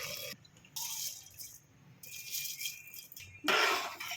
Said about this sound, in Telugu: బియ్యం పోసేసి వాటర్ పోసేసాను